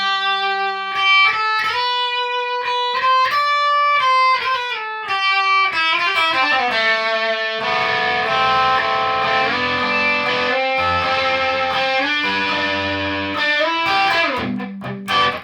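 Electric guitar solo from a song, played alone as a run of clean, ringing single notes and bends that builds into denser, slightly distorted phrases toward the end.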